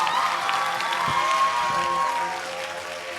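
An audience claps and cheers at a network marketing event, a broad wash of applause with some crowd noise under it, fading a little toward the end.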